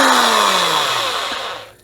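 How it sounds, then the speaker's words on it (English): A handheld power drill spinning in reverse, its high whine loud and close, then slowing and winding down as the motor pitch drops over about two seconds, with no talking. "you're going to reverse your drill bit"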